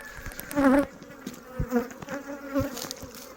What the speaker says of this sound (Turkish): Bir kısım arı tekrardan e, oğul aldığımız yere toplanmaya başladı.